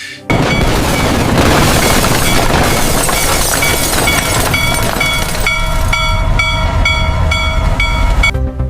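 A train roars past loudly and close, heavy rumbling and clatter throughout, with a sustained horn blaring over the second half.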